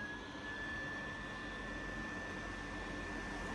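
A hot air rework tool blows a steady, even rushing hiss with a faint high whine while heating the Face ID camera of an iPhone XS Max, constant and unbroken throughout.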